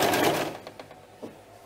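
A sewing machine stitches bias binding onto a fabric bread basket with a brief close whirring run that fades into a few soft clicks and taps.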